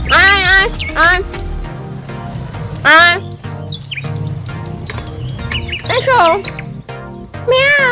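Several loud, close meows trade back and forth, with a person's voice calling out between them and imitating the cat's cry.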